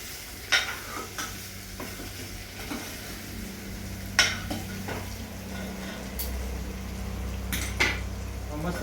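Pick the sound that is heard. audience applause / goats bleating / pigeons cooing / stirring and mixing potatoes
stirring and mixing potatoes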